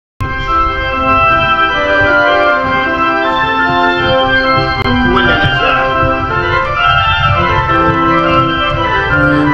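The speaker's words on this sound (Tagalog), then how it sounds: "kung paano papaganahin itong organ" A church pipe organ with zinc pipes sustains a loud, full chord that holds steadily for about nine seconds, with the harmony changing slightly partway through and no voices over it.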